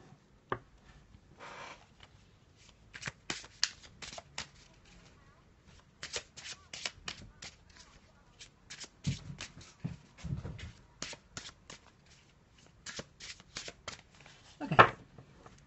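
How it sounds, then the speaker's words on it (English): Tarot cards from a black and white deck are shuffled by hand at close range, in bursts of crisp riffling and sliding flicks separated by short pauses, with a soft voice speaking in between. "A little shuffle."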